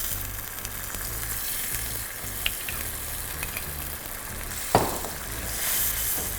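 Vodka goes into a tomato cream sauce in a hot pan, producing a continuous sizzle with a few sharp clinks and one louder knock before the frying swells slightly, no voices.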